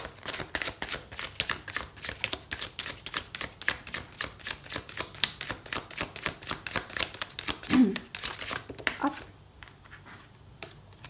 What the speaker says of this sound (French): pour finir, on va tirer juste une carte de celui-ci